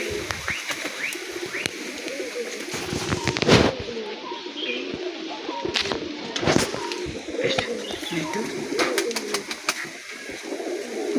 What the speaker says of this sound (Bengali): দেখুন পায়রাটা। পায়রার নিচে রং করা আছে দেখুন